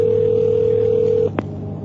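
A telephone call placed live on a radio show: a loud steady dial tone holds, then cuts off with a short dialing beep, heard clearly with no talking.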